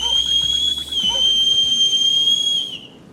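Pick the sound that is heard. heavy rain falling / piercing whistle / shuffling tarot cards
piercing whistle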